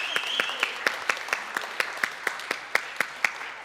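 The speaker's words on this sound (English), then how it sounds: "Give yourselves a round of applause." A church congregation applauds with fairly sparse, distinct handclaps in a quick, near-regular rhythm, with a faint murmur behind them.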